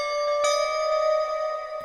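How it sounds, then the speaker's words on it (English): Synthesized bell tone from a dark trap melody, a bright sustained metallic note with a ringing overtone stack, retriggered once early and again near the end, clean and alone. "this is the next sound I use, which is another bell pretty much"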